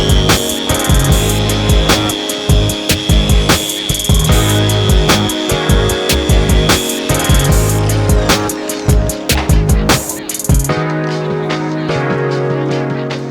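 A machine polisher with a pad works the paint of a 2018 Honda Civic, a loud continuous whine with rhythmic pulsing pass after pass, easing to a steadier tone near the end.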